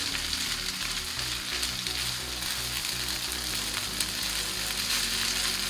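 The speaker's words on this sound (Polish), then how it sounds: "Jeszcze chwileczkę podsmażamy to wszystko." Tomato concentrate and onion frying together in a pan give a continuous close sizzle and crackle with occasional louder pops, steady throughout and heard alone.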